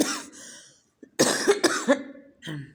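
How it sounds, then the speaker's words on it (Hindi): A person coughs several times in quick, harsh bursts close by, with a brief throat-clearing sound between them. "खांसी अभी सही नहीं हुई है मेरी"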